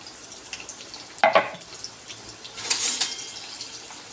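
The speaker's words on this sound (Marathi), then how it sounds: "सर्वात आधी तर मी आता याच्यात टाकते कांदा" Sliced onion hits a hot pan with a sudden sizzle, followed by a steady, close frying hiss and a second surge of crackle, with no talking.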